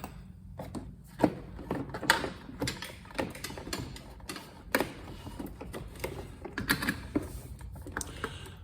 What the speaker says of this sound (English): now we can get the clamp on it